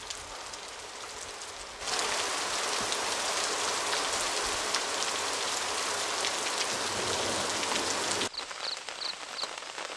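Heavy monsoon downpour in Bandipur Tiger Reserve, Karnataka, a dense steady roar of rain striking ground and foliage that swells in abruptly, holds loud and even for several seconds, then drops back to a lighter patter.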